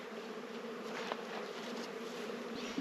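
Honey bees swarm around hive frames lifted from a homestead hive near an herb garden, making a dense, steady buzzing hum that stays close and even throughout.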